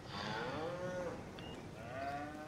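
A Holstein cow in the farming game Farming Simulator 22 moos twice, long drawn-out lowing calls from a freestall barn, close and clear over a steady background hum.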